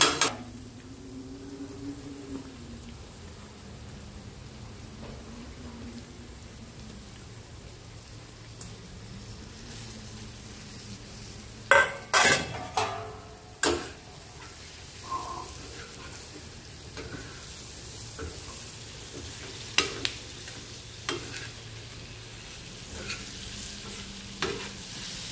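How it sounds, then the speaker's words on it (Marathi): Egg paneer, made from egg, frying in hot oil on a tawa, with a soft continuous sizzle under repeated sharp clanks and scrapes of a spatula stirring against the pan, bunched in the middle and scattered near the end. "पनीर अंडा पनीर टाकून घेऊया।"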